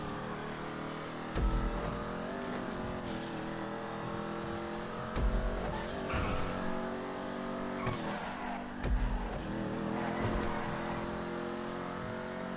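A Vapid Ellie muscle car in GTA Online drives steadily with a continuous engine drone that rises and falls as the throttle shifts, with a few brief bumps and no talking.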